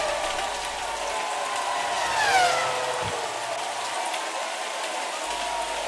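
Steady rain hisses through a wet Formula 1 race, with one racing car's engine whining past midway through the continuous downpour.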